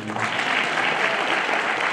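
An audience applauds loudly and steadily at a prize distribution ceremony for Pratigya Diwas in Nagarkurnool, with dense clapping that stays even throughout and no other sounds.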